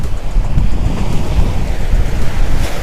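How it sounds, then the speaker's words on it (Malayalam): Sea waves surging against the shore and breakwater at Munambam beach in Kerala, a loud close continuous roar heavily buffeted by wind noise, with no voices. "തിരമാലയൊക്കെ അടിച്ചു നോക്കി."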